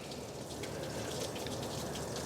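Dirty water laden with chunks of crud, oil and grime flushes out of a 7.3 Powerstroke oil cooler, a faint, steady splashing gush with no talk.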